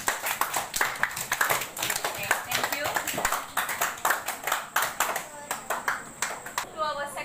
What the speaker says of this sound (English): Okay, give a clap for them.